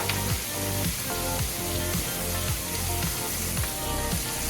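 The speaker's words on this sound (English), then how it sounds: "I'm just gonna sizzle it here for just a minute or two" Whole pompano fish sizzles loudly in a hot pan for a Provencal dish, a dense steady crackle and hiss with rhythmic low clatters throughout.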